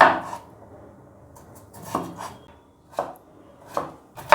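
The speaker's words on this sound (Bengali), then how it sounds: "এবার আলুগুলোকে গোল গোল চাকা চাকা করে কেটে নেব" A knife slices potatoes into rounds on a board, giving five or six sharp, separate chops spaced about a second apart, close and clear with quiet pauses between.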